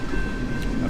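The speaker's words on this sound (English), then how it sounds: "It's like the Energizer Bunny, only it's a train." A long freight train of about a hundred cars rolls steadily past, its continuous rumble and rolling wheel noise holding at an even level throughout, with no horn.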